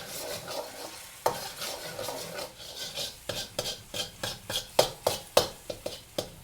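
Scrambled egg is stirred and scraped around a hot wok for egg fried rice, with a steady sizzle under a run of sharp, rhythmic spatula clacks that grow more frequent and louder toward the end, with no voices.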